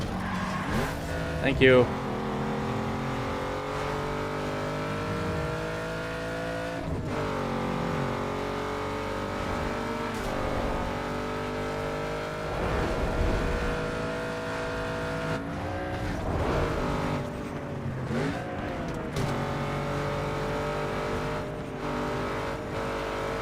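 Ford Mustang cars racing in a driving video game, steady engine drone with rising and falling revs and occasional tire squeal throughout, under intermittent talk.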